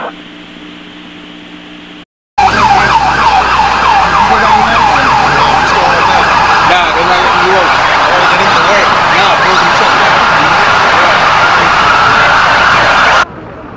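A loud wailing emergency siren cycles up and down continuously, close by, with engine rumble and faint radio chatter underneath.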